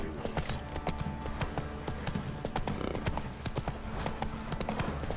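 Horse hooves clip-clop steadily at a trot in The Witcher 3, a dense continuous rhythm close by with faint voices now and then.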